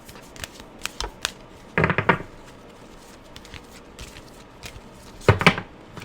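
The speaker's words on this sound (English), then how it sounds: "let me shuffle these cards a little bit here" Tarot cards riffle and snap close by in two short bursts of shuffling, with scattered soft taps and handling sounds between them.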